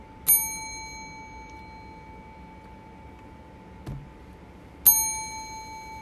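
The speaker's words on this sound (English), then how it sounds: "I didn't ring the bell." Bell rung during a live magic and mind-games show: two bright, ringing dings about four and a half seconds apart, each decaying slowly over a quiet background, with a soft knock between them.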